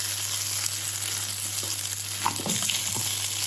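Lamb stir-fried in a wok with peppercorn, chili and garlic, a steady loud sizzle with a few scraping clacks near the end, close and without talk.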